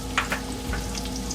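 Garlic frying in a pan over lowered heat for keto broccoli and cheddar soup, giving a soft, continuous sizzle with a few faint stirring clicks and no talking.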